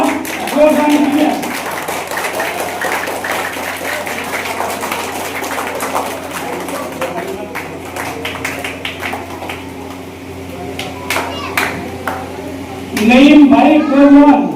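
Children at a village welcome gathering clap loudly for an arriving guest, a dense patter of applause that swells near the end, with someone speaking through much of it.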